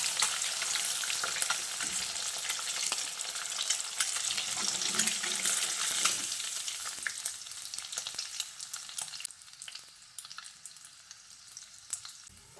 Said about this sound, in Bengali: এবার তেলের মধ্যে ডিমগুলোকে দিয়ে একটু লালচে করে ভেজে নিতে হবে